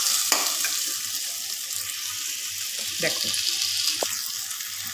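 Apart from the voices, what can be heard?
stirring spices in a pan for mango pickle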